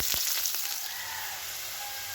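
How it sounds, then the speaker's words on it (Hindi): Chopped onions sizzle in hot oil in a pan for a Kabuli chickpea curry, a steady close hiss with a few sharp stirring clicks near the start. "पियाज दो भाजा ᱧᱚᱜ एन ताबोना"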